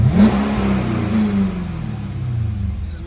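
A 2012 Cadillac CTS-V with a supercharged 6.2L V8 and stock exhaust revs close by: a sharp blip up to a growl, then a long, smooth fall back toward idle, with no talking.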